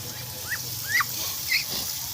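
A dog gives a few short, high-pitched whimpers, faint and spaced about half a second apart, over a quiet background with some low murmuring voices.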